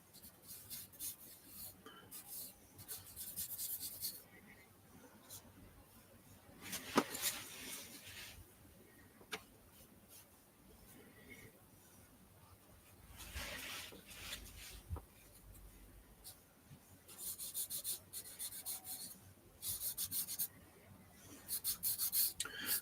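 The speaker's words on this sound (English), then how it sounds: "So I have to sandpaper it out, really." Sandpaper rubbing over a portrait drawing, heard as close, dry, raspy scraping strokes in irregular bursts with short pauses between them, alone without talk.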